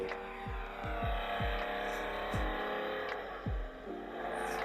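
Toyota 2000GT straight-six engine running steadily with a deep, continuous hum and a series of repeated low thumps, close and fairly loud throughout.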